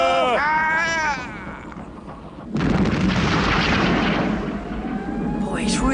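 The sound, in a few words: cannon fire in TUGS animated series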